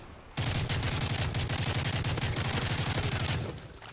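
Rapid, sustained automatic gunfire from a video game battle, a dense rattling burst of shots close and loud for about three seconds before cutting off.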